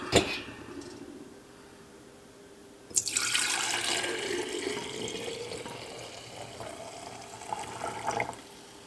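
Homemade Instant Pot bone broth poured into jars without a funnel, starting after a quiet few seconds as a close, steady splashing trickle of liquid that runs on with small surges near the end.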